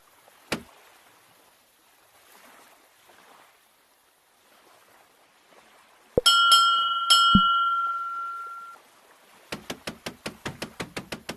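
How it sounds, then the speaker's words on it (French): Ship's bell in the shipbuilding game Navalia, a sharp early clang, then a ringing metallic chime with a long decay, later a quick run of about ten crisp strikes against soft water ambience. "faites sonner la cloche pour m'avertir que la tâche a été réalisée"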